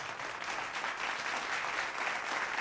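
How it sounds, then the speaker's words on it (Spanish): Audience at a tango competition giving a dense, steady round of applause for a tango trio, sustained and even throughout with no voices standing out. "Fuerte el aplauso para ellos."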